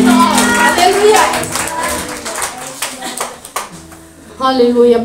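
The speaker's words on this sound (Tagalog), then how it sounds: "Malakas na palakpak para sa ating Panginoon." A congregation claps in praise during a lively Filipino church worship service, fast rhythmic hand claps alongside music and a leader's voice.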